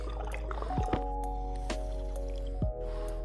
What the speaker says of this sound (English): Oh, bottle filler working at last.